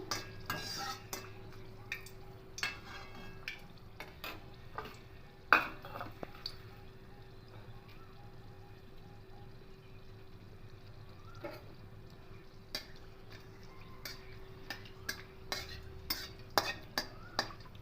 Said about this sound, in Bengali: আমি একটু শুকনো লঙ্কা দিচ্ছি